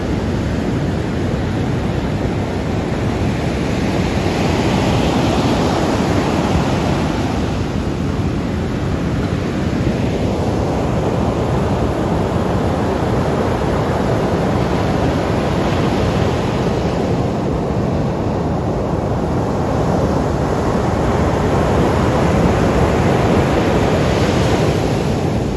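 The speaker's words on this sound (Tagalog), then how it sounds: "Grabe naman yung dagat na ito." Rough, heavy sea waves at Morong Bataan beach roar and crash continuously, a dense wash of surf that swells and recedes under gusting wind, loud and close with no voices.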